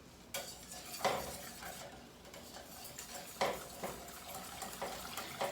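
A chocolate pudding mixture made with cornstarch is stirred in a pot over medium heat, with soft wet swishing and periodic louder scrapes and clinks of the utensil against the pot, close and steady with no talking.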